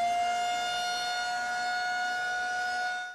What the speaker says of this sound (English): Residents woken by air raid sirens screaming the warning that airstrikes were imminent.